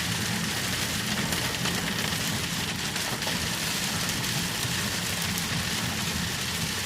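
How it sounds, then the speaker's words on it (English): Heavy, pouring rain drums steadily on a car during a thunderstorm, heard from inside as a dense, unbroken wash of sound with a low rumble beneath, close and loud throughout with no talking. "Just enjoy the pouring rain."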